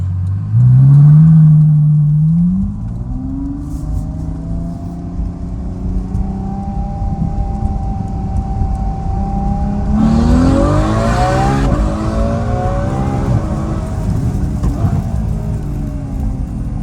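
A 2016 Ferrari F12 Berlinetta V12 with an Fi exhaust revs hard and close right away, then settles to a rumbling idle. Around ten seconds in, a second rising rev climbs before easing back down.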